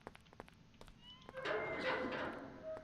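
A kitten meowing in the video game Mafia (2002), one drawn-out meow rising loud after a series of soft clicks and footsteps, heard close with no talk over it.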